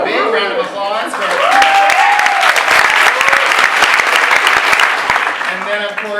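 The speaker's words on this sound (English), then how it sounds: "So a big round of applause for" Sustained audience applause at an evening book event for a new graphic novel, dense clapping building quickly and holding steady throughout, with a voice speaking over the start.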